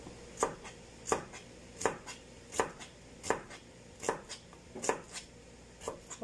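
Onions chopped with a knife on a board, a steady rhythm of crisp thuds about one to two per second, close and clear, with no voices.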